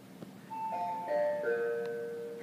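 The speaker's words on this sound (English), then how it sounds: "That's our bell." A school bell rings in a classroom during a maths lesson, a chime of overlapping sustained tones that sound for about two seconds at moderate volume, with no talk over it.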